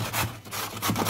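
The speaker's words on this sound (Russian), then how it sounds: "На мелкую терку нарезаем, натираем морковку" Carrot rubbed against a fine kitchen grater, steady rasping strokes in a repeating rhythm, close and fairly loud with brief pauses between passes.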